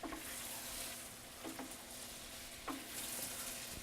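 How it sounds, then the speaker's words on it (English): Pumpkin ricotta gnocchi tossed in sauce in a hot pan, a steady quiet sizzle broken by a few soft stirring clinks and scrapes against the pan. "you want to just toss it in the sauce for about 1 to 2 minutes"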